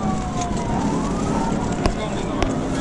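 An Arkansas State Police trooper's car siren wails during a high-speed chase, its rising and falling tones sweeping over loud road and engine roar, with a couple of sharp knocks.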